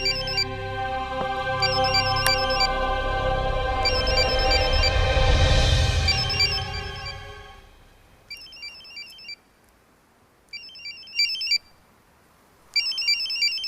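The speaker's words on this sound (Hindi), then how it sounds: "कोई फोन बज रहा है।" A telephone rings in a tense action-film scene, first as a loud, sustained tone over a rumbling score, then as bursts of electronic ringing separated by short silences.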